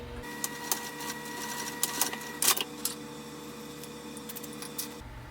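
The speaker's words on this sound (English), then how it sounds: "I'll come back to my machine, start and stop back stitching both times." A sewing machine stitches the gusset of a bag, a steady mechanical whir with small clicks and ticks, close and continuous, backstitching at the start and stop, with no talking.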